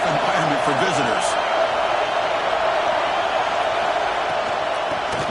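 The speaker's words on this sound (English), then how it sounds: "Listen to the crowd energy here in the early going." Steady roar of a large crowd at a college football game between LSU and Auburn, loud and continuous throughout with a few faint whoops rising early on.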